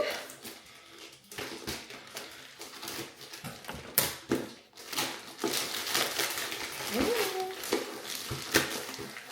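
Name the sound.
cutting open hair package with scissors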